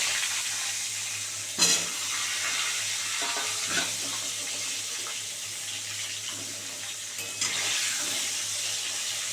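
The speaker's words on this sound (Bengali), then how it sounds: "পটলগুলো খুব সুন্দর করে ভেজে নেব" Pointed gourd frying in oil alongside potatoes that were fried earlier, a steady hiss of sizzling oil with a few sharp clinks of stirring, close and alone with no voices.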